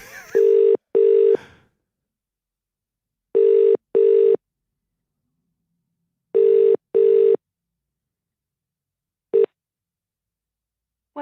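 A telephone rings out on a call with a steady double-ring cadence, four paired bursts of tone separated by pauses, the last one cut short, clear and alone with no talking.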